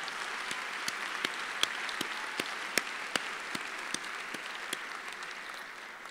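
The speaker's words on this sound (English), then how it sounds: "I invite you an applause for everyone." Commencement audience at a UC Berkeley sociology graduation applauds in a hall, a faint, steady wash of many hands with a few sharper claps standing out, fairly distant and continuous.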